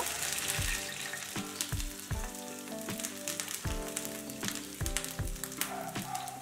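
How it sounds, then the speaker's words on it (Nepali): Finely chopped onion fries in hot oil with a dense, crackling sizzle, punctuated by repeated spatula scrapes and taps against the pan at an irregular rhythm, close and fairly loud with no talking. "मसिनो गरी काटेको आधी प्याज र यसलाई गोल्डन ब्राउन हुने गरी फ्राई गर्नुपर्छ"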